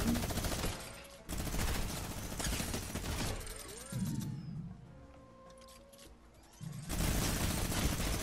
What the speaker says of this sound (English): dude, use the minigun